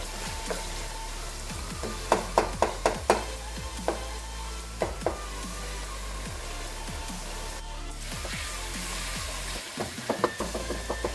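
Charsi chicken karahi masala with green chillies sizzling and frying in a pan, with a steady bubbling hiss and repeated sharp clinks and scrapes of a spoon stirring throughout.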